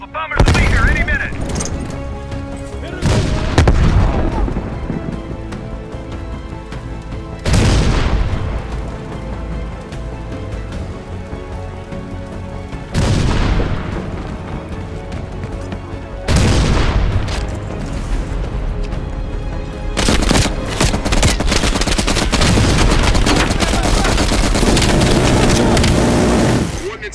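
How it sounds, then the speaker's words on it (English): A bombing strike in the Call of Duty Black Ops Cold War video game brings several heavy booming explosions spaced a few seconds apart. Crackling gunfire runs between them and builds into a dense, continuous barrage near the end. "Orders confirmed. Bombing strike imminent."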